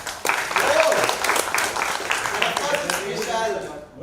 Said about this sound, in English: round of applause to Vishal Furia